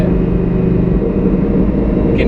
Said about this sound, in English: you can hear the gases all fighting along within the exhaust